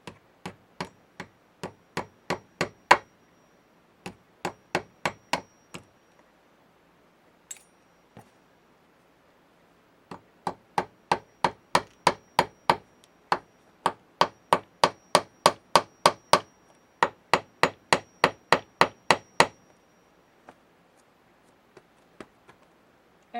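Hammer tapping upholstery tacks into a chair frame during reupholstery, sharp close strikes in quick bursts of about six to twelve blows, then pauses, with a long steady run in the middle and scattered light taps at the end.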